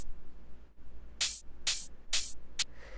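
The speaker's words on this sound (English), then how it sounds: "the next thing that we have here is this hi-hat" A bright, sharp hi-hat sample for UK bass production plays as four crisp, loud hits in an uneven rhythm, standing alone over a faint low hum.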